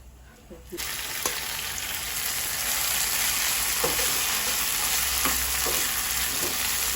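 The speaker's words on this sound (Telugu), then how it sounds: "మినపప్పు పోపు దోరగా వేయించుకోవాలండి" Urad dal tempering frying in hot oil, a loud, steady close-up sizzle that starts abruptly and holds throughout, with scattered small crackles and pops.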